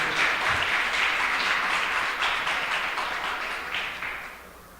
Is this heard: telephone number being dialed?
no